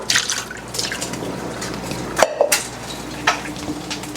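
A cup is rinsed out with water at a kitchen sink: soft splashing and dribbling with light clinks of dishware, including a sharper knock partway through. Fairly quiet and close, with no talk.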